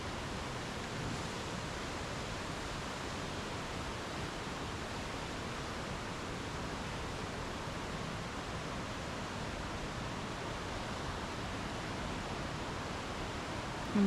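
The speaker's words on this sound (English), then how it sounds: "You just hear that water rushing." Water rushes through Maligne Canyon in the Canadian Rockies, a steady, even roar of fast-moving water that carries on unchanged throughout, broad and moderately distant with no voices.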